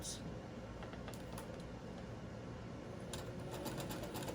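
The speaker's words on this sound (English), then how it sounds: "I'm sewing up the side of the shirt" A sewing machine hums along the side seam of a doll's blouse, a steady close mechanical whir with faint ticking, while someone talks over it.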